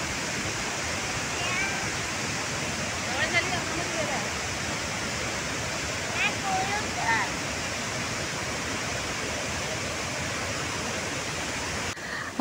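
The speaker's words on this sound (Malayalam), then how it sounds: "അപ്പോൾ ഇതാണ് നമ്മുടെ വാഴച്ചാൽ വാട്ടർഫോൾസ്." Vazhachal waterfall in Kerala running in strong flow after heavy rain, heard as a constant, even wash of water from a short distance. Faint voices and brief birdlike chirps sit quietly beneath the roar.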